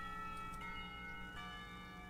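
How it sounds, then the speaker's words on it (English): Clock tower bells in the visual novel Katawa Shoujo, marking the end of a school period: sustained, layered ringing tones hang steadily under faint game ambience at low volume. "The clock tower bells ring, signaling the end of the period, time for lunch."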